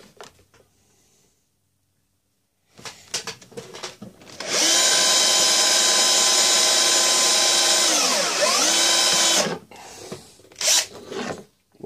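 Drilling holes through leather for a Morakniv bushcraft knife sheath: a loud, steady whirring tone runs for several seconds, dipping briefly near the end, framed by short handling clatters before and after.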